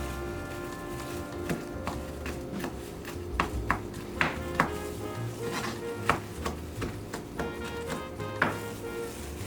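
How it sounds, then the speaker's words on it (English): Soft, irregular knife taps on a cutting board while chopping vegetables for chicken salad, scattered through a quiet kitchen background with faint clatter. "I'm almost finished chopping everything I've got to chop"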